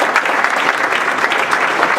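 Dense, continuous clapping from a large audience at a blues summit keynote fills the whole stretch at an even, loud level.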